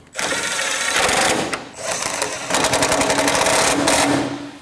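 Power tool tightening two 12mm horn bracket bolts on a 2012-2016 Honda CR-V 2.4L during AC condenser replacement, a loud continuous whirring and rattling run with a brief dip midway.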